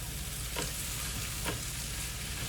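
Corned beef hash frying on high heat sizzles with a steady dense hiss, broken by two soft stirring scrapes of a utensil through the pan.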